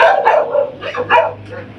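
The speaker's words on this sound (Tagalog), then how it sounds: "Tumataho lang aking aso na si Fritzy." A pet dog named Fritzy barks outdoors near a small sari-sari store, giving a quick run of several sharp, fairly close barks in under two seconds.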